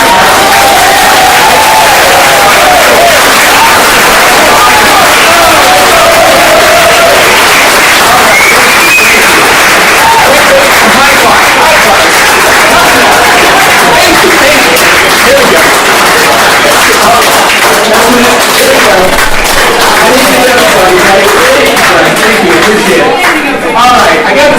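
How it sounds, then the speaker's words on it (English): A big conference audience gives a standing ovation, a loud, sustained wash of applause and cheering with whoops and crowd chatter that never lets up. "I got the standing ovation done at the beginning"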